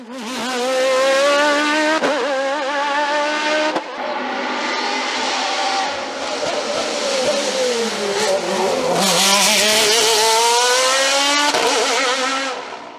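A loud racing engine from a Nova Proto NP01 V8 prototype screams continuously at a hillclimb, revving up and down through gear changes with sharp pitch sweeps, close and sustained for the whole stretch.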